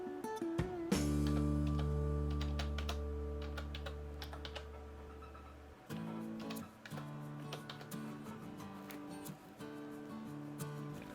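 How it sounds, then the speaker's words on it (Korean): Typing on a computer keyboard, entering a credit card number: a run of quick, light key clicks over a steady, sustained tonal background. "그래서 카드 번호를 입력해 주시고요"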